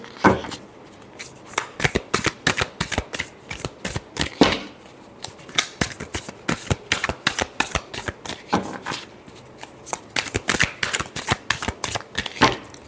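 Tarot cards shuffled steadily by hand, a long run of crisp, rapid riffling bursts close up, each flurry followed by a brief pause, with no voices.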